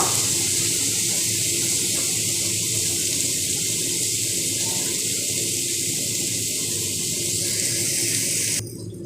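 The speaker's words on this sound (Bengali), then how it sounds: "পেঁয়াজ আর রসুনটা একটু ভাজা হতে দিব" Onion and garlic frying in oil for a murrel fish jhal, giving a loud, steady, unbroken hiss of sizzling that runs throughout and cuts off just before the end, with no talking.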